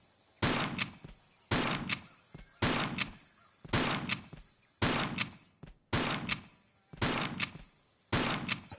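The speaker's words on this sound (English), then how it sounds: "Why is she shooting?" Bursts of gunfire as Lara Croft shoots in Tomb Raider 3, eight evenly spaced volleys about one second apart, each a loud sharp crack trailing into a short decay, with no talk.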